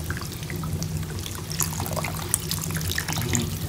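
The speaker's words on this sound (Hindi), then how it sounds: "इसमें हम थोड़ा सा पानी शामिल कर लेंगे।" Water poured from a vessel into chicken curry as it cooks in the pan, a short continuous splashing, gurgling stream heard up close with no talk.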